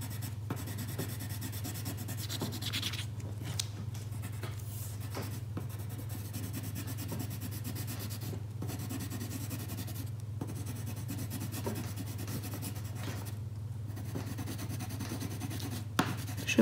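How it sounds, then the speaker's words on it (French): Steady, continuous scratching of a coloring tool rubbing over paper while filling in a picture of continents, close and alone, with brief pauses between strokes. "Now I can color the inside of my picture."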